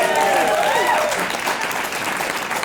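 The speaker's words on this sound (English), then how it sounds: "Give them a round of applause" An audience at a corporate comedy show gives nurses a full round of applause, close and dense, with a voice speaking over the first second.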